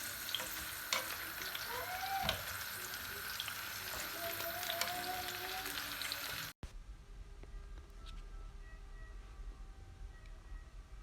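Seafood for an Italian risotto sautés in olive oil in a pan, with a soft continuous sizzle and occasional utensil taps, fairly quiet, then a sudden drop to a fainter crackle.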